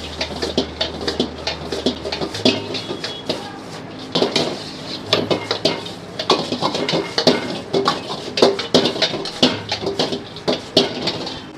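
Cauliflower is tossed with spices, black pepper and salt in a metal bowl, making repeated rhythmic clinks and scraping rattles of utensil against the bowl, close and continuous, with no talking.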